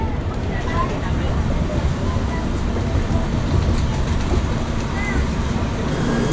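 Inside a Konkan Railway train stopped at a crossing near Ukshi station, a steady loud rumble of carriages and rail noise fills the clip, with voices talking throughout.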